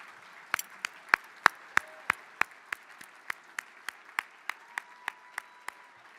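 Audience applause at a gala ball fills the room, with sharp, evenly spaced hand claps ringing out in a steady rhythm for about six seconds, fairly loud and close.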